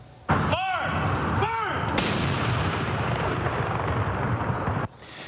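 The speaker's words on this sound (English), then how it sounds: "The 21-gun memorial salute rang out after 2 minutes of silence." Ceremonial 21-gun memorial salute on Remembrance Day at the Alberta Legislature in Edmonton: a loud boom opens, followed by a sustained rumbling roar and echo, with whistling tones sweeping overhead early on.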